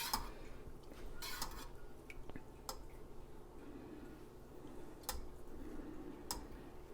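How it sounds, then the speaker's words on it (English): Raw milk cheese curds stirred gently in a pot, sparse soft clicks and taps of the utensil against the pot over a low steady background, close and quiet. "for the first 20 minutes stir fairly light, so that you're not too rough with those curds."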